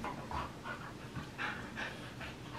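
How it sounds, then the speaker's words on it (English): Huskies panting rhythmically while wrestling indoors, quick repeated breaths close by with no talk. "Watching the dogs wrestle."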